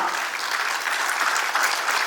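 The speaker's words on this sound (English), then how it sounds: "may I request you to please give a huge round of applause for Mr. Vijay Sharda" An audience applauds Mr. Vijay Sharda, hotel and spa owner, at an Innovation Day event on smart hotels; a dense, steady wash of many hands clapping fills the whole stretch at even loudness.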